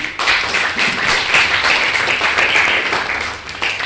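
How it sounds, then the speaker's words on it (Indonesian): Classroom applause for a student, loud and close, with many hands clapping in a dense, even patter that holds steady throughout. "Nah, beri aplaus buat Destian."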